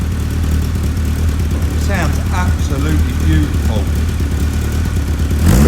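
A Caterham 7 engine, just refitted, idles loudly and steadily with a couple of small revs rising briefly midway, all close by, while a person speaks over it.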